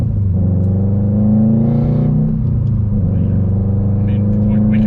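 Car engine blipped and revved during a heel-toe downshift from third to second: a close, steady low rumble that rises and falls slightly in pitch, with someone talking over it.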